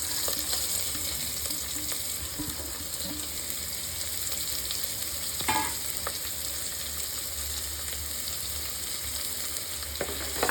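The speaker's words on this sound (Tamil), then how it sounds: "ஒரு வெங்காயம் வந்து நான் நறுக்கி வச்சுருக்கேன். அதை வந்து நம்ம இதில் சேர்த்து வதக்கிக்கலாம்." Chopped onion sautéing in hot oil in a pan for chicken kulambu, a steady close sizzle with a few stirring scrapes and clinks.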